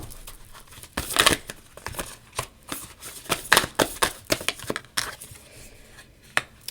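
Tarot cards being shuffled by hand, a steady series of close, crisp riffling and flicking bursts with short pauses between them, no voices.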